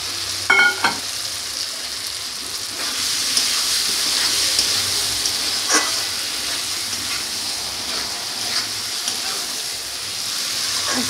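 Cubed potato and kohlrabi fry in a hot pan with a continuous close sizzle, a clatter as they go in at the start, and occasional stirring scrapes.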